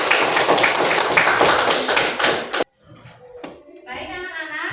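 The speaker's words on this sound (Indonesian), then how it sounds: "Berikan aplaus untuk" A classroom of students applauding a student group, a burst of mixed clapping for about two and a half seconds that cuts off abruptly, followed by someone speaking.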